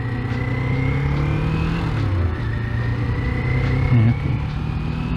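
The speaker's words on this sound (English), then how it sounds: "I'm curious to see if I can hear the sounds of my bike" Steady engine drone from a 2021 Kawasaki Z400 ABS motorcycle on a fall road ride, with rising and falling pitch as the rider shifts and accelerates, plus continuous road and wind rumble close to the bike.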